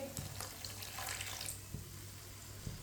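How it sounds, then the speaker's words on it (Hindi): Water splashes briefly into a pan of cooking spices for about a second and a half, then settles into a quiet hiss with a couple of small clinks. "थोड़ा सा पानी डालेंगे"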